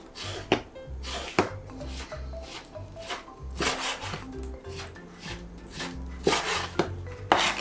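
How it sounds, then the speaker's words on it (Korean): A knife scores and slices squid on a cutting board for squid and radish soup, giving a series of crisp, uneven taps and short scraping strokes, close and fairly quiet. "옆으로 살살 이렇게 그어주세요. 그어서 옆에 하나, 둘, 셋, 넷 이렇게 잘라주면"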